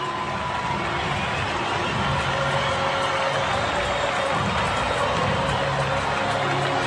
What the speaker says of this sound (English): And even the very best applaud.